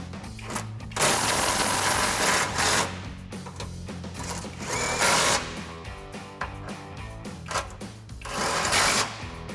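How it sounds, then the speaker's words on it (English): A power tool with a 17mm socket drives bumper bolts on a 2016-2023 Toyota Tacoma rear bumper, heard close as several loud, whirring bursts with brief pauses between them. "And then we can tighten this down using our 17mm socket."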